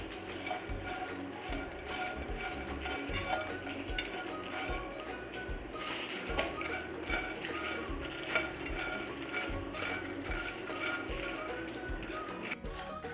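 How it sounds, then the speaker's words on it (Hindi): Makhana (fox nuts) are dry-roasted in a pan over a low-to-medium gas flame until lightly browned. A continuous light rattle of stirring and tapping against the pan runs throughout. "गैस की फ्लेम को हम लो टू मीडियम रखेंगे। और उसे हल्का ब्राउन होने तक सेक लेंगे।"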